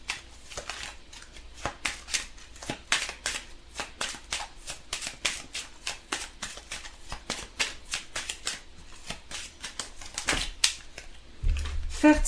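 Tarot cards being shuffled for a reading, a rapid run of crisp riffling slaps and ruffles repeating steadily for about eleven seconds, close and fairly quiet, ending in a short louder thump.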